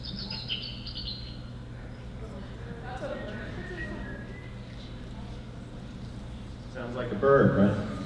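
Animal calls shifted down in pitch into the audible range come through as faint bird-like chirps over a steady low hum, growing louder and busier near the end.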